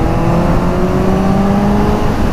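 A Suzuki Hayabusa motorcycle engine drones loud and close at high revs, holding a strong, steady tone that shifts only slightly in pitch over a couple of seconds.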